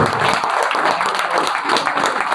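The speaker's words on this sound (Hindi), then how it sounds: "यह जोरदार तालियां होनी चाहिए।" An audience at an academic toppers' celebration breaks into loud, sustained applause, a thick continuous patter of many hands clapping at close range.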